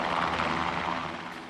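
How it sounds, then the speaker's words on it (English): Rotor and engine roar from U.S. military helicopters flying over a devastated disaster-zone village, a steady broadband whir that stays loud throughout and fades very slightly toward the end. "The U.S. military has sent in badly needed helicopters."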